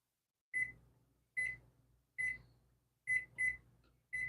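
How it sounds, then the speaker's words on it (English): A kitchen timer, set while Mexican rice with cilantro cooks, gives six loud, sharp electronic beeps at a fairly steady pace, close by and with no talk over them. "Let me start the timer."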